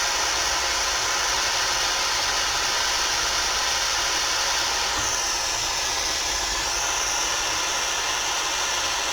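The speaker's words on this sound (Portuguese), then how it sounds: "Pegamos um maçarico aqui, Orca 75, bico pequeno." An Orca 75 jewelry torch with a small tip burns steadily during jewelry soldering, giving a continuous loud hiss that shifts slightly in tone midway.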